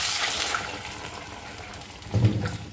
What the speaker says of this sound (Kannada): ಅದಕ್ಕೋಸ್ಕರ ನಾವು ಸ್ವಲ್ಪ ನೀರು ಹಾಕ್ಕೊಳ್ಳೋಣ